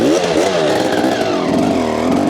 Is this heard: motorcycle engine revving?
yes